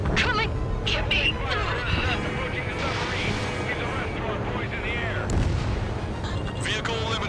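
Aerial combat in the video game Ace Combat 7 brings continuous heavy gunfire and cannon bursts over a roaring jet engine, dense and loud throughout, with radio voices talking over the action.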